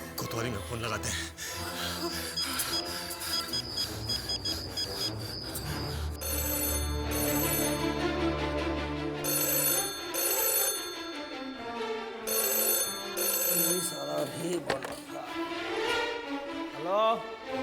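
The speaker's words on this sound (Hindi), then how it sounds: "कोतवाली में फोन लगाते हैं।" A telephone rings with a repeating electronic tone while music plays and voices talk over it, all fairly faint.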